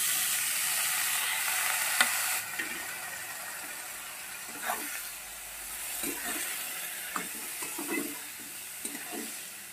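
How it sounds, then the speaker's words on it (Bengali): Bottle gourd peel frying in a pan with garlic and green chilies, a soft steady sizzle broken by scraping stirs and light clinks of the spatula, with no voices. "লাউর খোসাটা আমি রসুন দিয়ে আর কাঁচা লঙ্কা দিয়ে আমি ভেজেছি"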